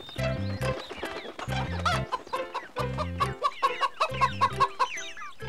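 A hen clucks in a Tamil children's cartoon story, loud and close, with repeated bursts of throaty clucks followed by a quicker run of rhythmic clucking and bright chirps.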